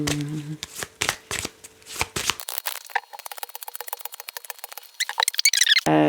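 A deck of cards is shuffled for an astrology card draw, producing several quick riffles and snaps, then a longer stretch of fine rapid pattering, and ending in a brisk flurry of close card flicks.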